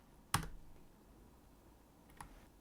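Two computer keyboard keys are pressed for a Shift Enter shortcut, a crisp close click followed about two seconds later by a softer one in a quiet room.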